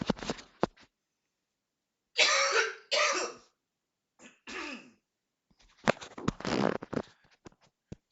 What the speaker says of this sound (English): I had to clear my throat a little bit